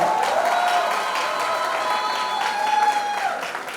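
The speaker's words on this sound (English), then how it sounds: "a big round of applause for your principal for giving Mahima this shot" Students at a Thakur College event applaud their principal, a lively wash of clapping with a few cheers and faint tonal sound running underneath, tapering off toward the end.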